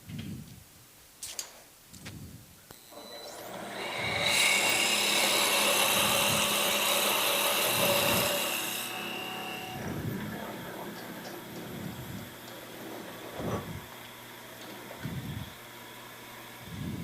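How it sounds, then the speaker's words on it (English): A 1/2-inch hole being drilled into a wood blank on a lathe, a steady loud whir of cutting for several seconds that stops and leaves the lathe running with light rhythmic ticking. "That's as far down as I'm going to drill."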